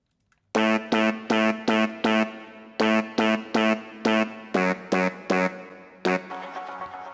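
A mid-range synth layer rendered from a Surge synthesizer preset plays a run of short, evenly spaced stabs with one brief pause, each note bright and harmonically rich, loud and alone with no voices.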